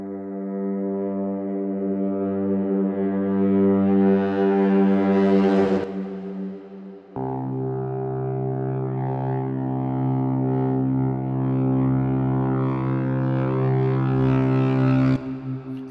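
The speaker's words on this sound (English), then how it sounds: "I included in the library tempo-synced risers, both with the baritone and with the Stratocaster guitar." Baritone and Stratocaster electric guitar risers synced to host tempo, swelling loudly in sustained harmonic tones that build to a peak, cut off, then a second riser climbs steadily before ending abruptly.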